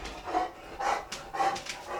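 A dog pants in quick, close breathy bursts, roughly three or four regular puffs, with no talking.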